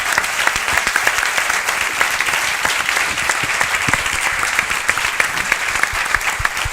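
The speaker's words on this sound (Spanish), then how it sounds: "un aplauso para todos." A large live-show audience of the Turra Tour 2023 claps loudly and continuously, a dense sustained roar of hands with crisp individual claps popping through, no voices on top.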